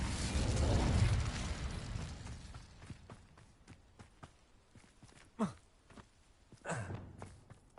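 Fire spell cast in the Hogwarts Legacy video game: a loud roaring whoosh of flame at the start that fades out, followed by scattered soft clicks and two short swelling bursts later on.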